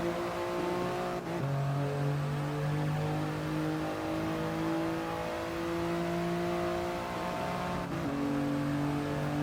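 Simulated engine of a Toyota GR Yaris in a Gran Turismo race at Fuji, a steady loud drone that shifts pitch sharply at two gear changes, with faint tire and track noise.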